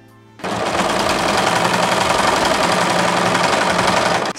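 Sewing machine stitching a side seam on a lightweight viscose dress, a loud, steady, fast mechanical whirr that starts abruptly and runs continuously for several seconds before stopping, close and with no talking.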